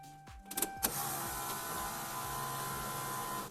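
Twin electric fuel pumps inside Jimmy Broadbent's Toyota Supra hum with a steady, loud whine that holds constant after a brief start-up.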